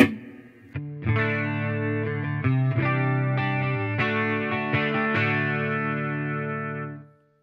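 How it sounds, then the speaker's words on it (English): A sustained electric guitar chord through a practice amplifier's built-in reverb rings out, restruck a few times and left to decay into a long wash of tail. "So we'll start off with the reverb here."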